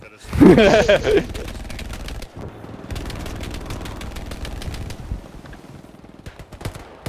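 In the video game Hell Let Loose, machine gun fire rattles in rapid bursts from a bunker position on a hilltop, steady and mid-distance, with a voice speaking loudly over the opening seconds.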